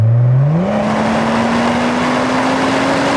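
A car fitted with a Kakamoto JDM exhaust goes to full throttle, the engine note climbing quickly and then holding a loud, steady drone as it pulls hard close by.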